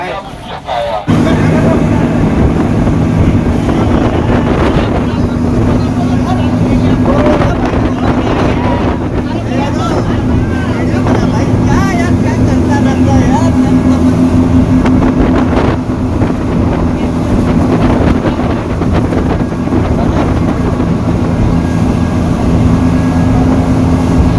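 A speedboat racing across the sea on a trip from Thailand to an island, its engine droning loud and steady throughout, buffeted by heavy wind noise.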